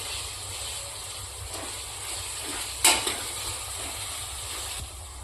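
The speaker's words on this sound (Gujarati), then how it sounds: "હવે આપણે આ બધું મિક્સ કરી લઈશું" A spice mixture with garlic chili chutney stirred in hot oil, steady sizzling and frying with soft scraping strokes and one sharp clink of the utensil partway through.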